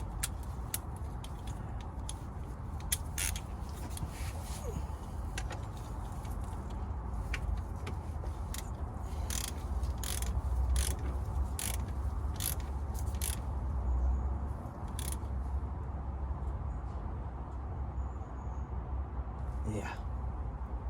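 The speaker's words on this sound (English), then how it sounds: "Tighten that up now. That's on nicely. Tighten that up. We don't need the extension." A ratchet tightens the drain plug on an 02J manual gearbox during a transmission oil change, producing rapid clicking bursts over a steady background hum while someone talks throughout.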